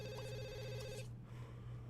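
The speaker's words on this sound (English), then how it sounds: "why do we keep getting phone calls?" A phone rings in The Sims 2 with a repeating electronic trill that stops after about a second, leaving soft game music and ambience.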